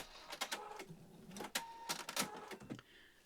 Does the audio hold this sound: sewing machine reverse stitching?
yes